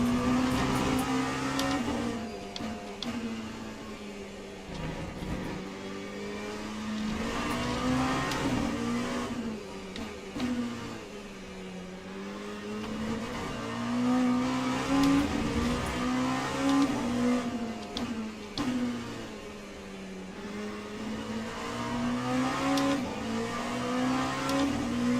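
GT3 race cars at Fuji in the sim racing game Le Mans Ultimate, during a multiclass race. Engine drones rise and fall steadily with gear changes as the car laps, with faint tire noise and no talk.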